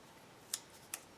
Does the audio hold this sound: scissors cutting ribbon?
yes